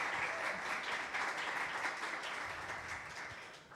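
Sustained audience applause at a closing conference session, dense and steady throughout, easing slightly toward the end.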